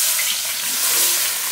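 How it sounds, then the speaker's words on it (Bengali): Onion hits hot oil in a pan and fries with a loud, dense, continuous sizzle, close and unbroken, with no talking. "তেল গরম হয়ে গেছে পেঁয়াজটা দিয়ে দিই"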